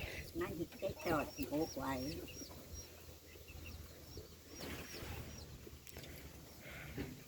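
Chickens cluck in short repeated calls close by while people talk over them.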